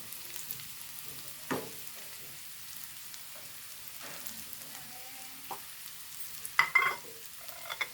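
Okra thoran made with crushed coconut paste and turmeric, sizzling faintly in a pan and stirred with a few soft scrapes and clinks, quiet and close, with no talking.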